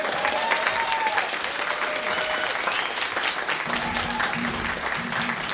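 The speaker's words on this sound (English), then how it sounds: "Another round of applause for our special guests." Audience applause at a community wind band's spring concert, a dense, steady clapping roar that continues throughout, with a faint low hum entering partway through and no voices on top.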